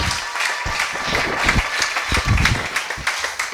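Congregation in a Kinshasa church applauding and cheering together, dense rapid clapping with crowd noise holding steady at close range throughout.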